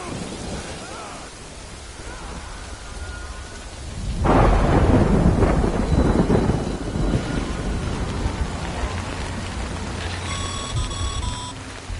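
Rain and thunderstorm in a video game: steady rainfall hisses in the background until a loud, close thunder crack breaks out and rumbles on for several seconds, with rain continuing and a few faint electronic tones near the end.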